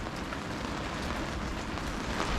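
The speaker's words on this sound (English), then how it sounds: "It is blowing a gale, teeming down with rain." Heavy rain driven by gale-force wind on Tasmania's east coast near Maria Island and Freycinet Peninsula, a dense, steady roar of drops hammering close by with no voices.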